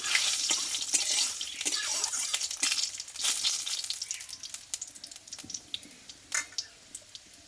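Panch phoron spices frying in hot oil for a vegetarian chal kumro curry, a steady crackling sizzle with sharp pops and spits that thin out into scattered crackles toward the end, close and fairly loud with no talking.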